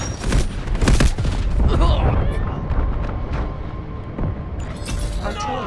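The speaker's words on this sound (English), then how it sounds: "Artillery cover coming. Get ready to engage. Cruise missiles inbound." An artillery barrage and cruise missile strikes in Delta Force Hawk Ops thunder loud and close, heavy booms and rumbling blasts rolling continuously with scattered crackling debris throughout.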